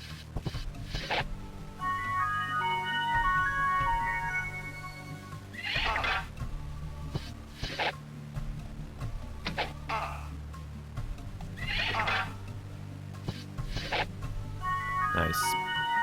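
Horses from the game Heroes of Might and Magic: Ironfist let out several loud, close whinnies at intervals over game music, with a voice talking between them.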